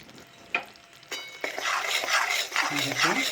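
Jaggery and ghee stirred together in a pan for broken wheat sukhadi: a spoon scrapes and knocks against the metal in uneven strokes over a soft sizzle, close by, starting sparse and growing busier.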